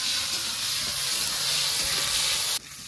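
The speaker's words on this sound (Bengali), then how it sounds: "এবার টমেটোটাকে নেড়ে চেড়ে টমেটোটাকে ভালো করে ভেজে নেব" Tomatoes fry in hot oil in a pan with a little salt, giving a loud, steady sizzle and faint stirring that cuts off abruptly near the end.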